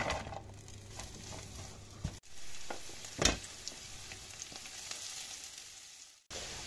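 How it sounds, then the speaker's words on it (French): Chopped onions frying in about three tablespoons of oil in a sauté pan make a soft, steady sizzle, with a brief stir or clatter partway through, quiet and close with no talking. "Puis j'y verse les oignons."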